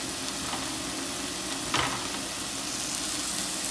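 Alaska cod fillets sizzle in a hot pan, a loud, constant hiss of frying with a brief sharper crackle partway through and no talking.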